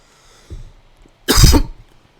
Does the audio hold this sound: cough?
yes